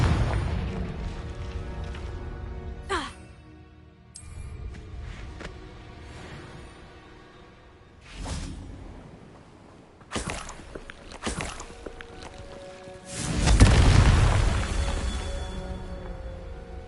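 Confringo blasting spell explosions in the Hogwarts Legacy video game: several booming bursts at irregular intervals, the loudest a heavy blast near the end, set over a steady bed of game ambience and scattered footsteps.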